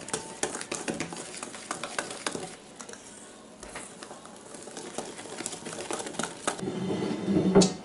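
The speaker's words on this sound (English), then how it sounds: "And then we're going to mix this really good." Cornbread batter being mixed vigorously in a bowl, a dense, continuous scraping and patting texture that runs throughout and swells slightly toward the end, with no voices.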